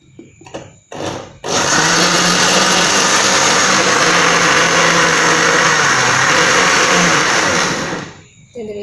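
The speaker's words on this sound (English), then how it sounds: "I have to blender it." After a few short knocks, an electric blender blending dragon fruit juice switches on and runs as a loud, steady whir for several seconds, then winds down near the end.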